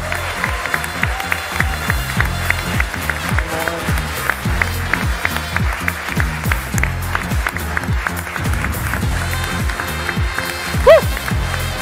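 Studio audience at a German sports comedy show applauds a 1. FC Kaiserslautern footballer, with a loud steady wash of clapping over strong rhythmic music; a voice may speak briefly under it.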